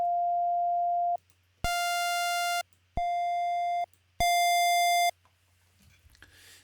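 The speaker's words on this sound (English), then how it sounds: "just looking at oscillator 1, let's hear our different wave shapes" Four sustained synthesizer tones from oscillator 1, each switching to a different wave shape, from a pure sine-like hum to buzzy harmonic-rich tones, separated by brief silences, followed by faint rustling.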